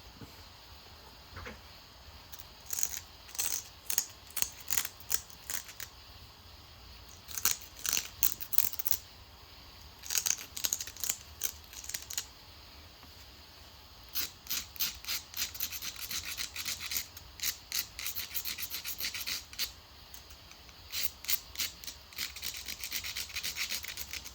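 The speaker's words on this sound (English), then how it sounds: "so I can just run some flakes on this side and see where I'm at" A stone point is shaped by pressure flaking along its beveled edge, producing short bursts of close, sharp scraping and crisp clicking strokes with brief pauses between runs.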